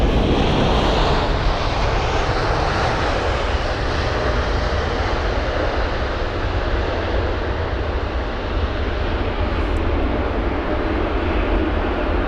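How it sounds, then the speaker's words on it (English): A Lufthansa Airbus A320neo at London Heathrow gives a loud, steady broadband jet roar that holds at an even level for the whole stretch, with no voices. "we've got a Lufthansa A320 Neo with the reg Delta Alpha India November Juliet"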